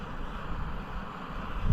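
Wind rushes steadily at a wild camp, a soft, broadband blowing with low rumbling gusts that swell toward the end, with no talking.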